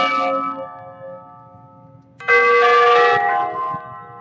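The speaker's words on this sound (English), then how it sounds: "there's a cleanup bell" A cleanup bell rings out twice with bright, sustained metallic tones, the second strike louder and lingering before it fades.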